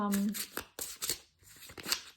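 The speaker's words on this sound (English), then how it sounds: "So that's just get another card, and then we'll shuffle more." Tarot cards being shuffled in bursts of riffling and sliding, three separate rounds of papery flutter with brief pauses between, close and fairly quiet, with a faint voice briefly underneath at the start.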